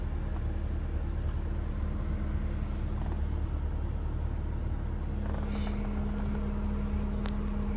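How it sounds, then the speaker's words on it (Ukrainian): A Honda Jazz with 162,000 km on it, air conditioning compressor running: a steady low mechanical rumble with a constant droning hum, plus a few faint clicks toward the end. "Компресор включився, кондиціонер працює."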